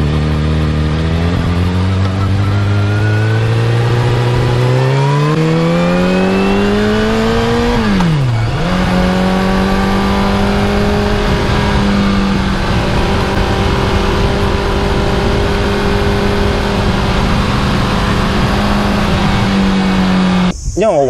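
A 2019 Kawasaki ZX-6R 636 motorcycle with a modified exhaust idles loudly, then revs up in a long rising sweep, drops back, and settles into a steady high rev that runs close and continuous for about twenty seconds.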